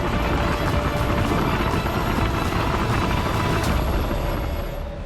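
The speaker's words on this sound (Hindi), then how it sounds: "सेना के हेलीकॉप्टर लगातार लोगों की जिंदगी बचाने में जुटे हैं।" An army helicopter flies during a flood rescue in Punjab near Amritsar, its steady, loud rotor and engine roar filling the air continuously before easing slightly at the end.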